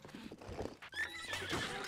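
A horse in the video game The Legend of Zelda: Breath of the Wild whinnies in a short, quiet, rising call mixed with clip-clopping hooves.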